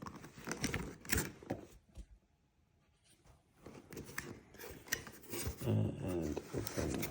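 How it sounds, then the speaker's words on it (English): Cardboard box of a Bosch EasyDrill 1200 12V cordless drill being opened, with close rubbing, scraping and rustling in bursts around a short quiet pause. "now we'll open the box here"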